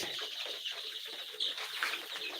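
Baby chicks in a brooder peep and chirp continuously in soft, high, overlapping calls, with occasional small flutters, close and fairly quiet.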